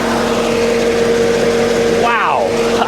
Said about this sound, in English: I think that fan is doing better than it's ever done before.